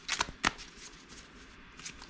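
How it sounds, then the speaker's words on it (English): A deck of cards is shuffled for a solo World War I air-combat card game, making a few quick riffling bursts close by, with no talk over them. "let's give the deck a little shuffle here"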